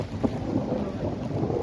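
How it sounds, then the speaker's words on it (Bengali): Thunder rolls on a mountain trail near Kedarnath during a lightning storm, a brief low rumble beneath steady ambient noise, with no speech. "আকাশের বিদ্যুৎ চমকাচ্ছে"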